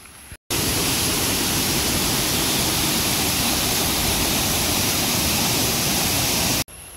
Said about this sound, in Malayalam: ഇതാണ് തൂമാനം വെള്ളച്ചാട്ടം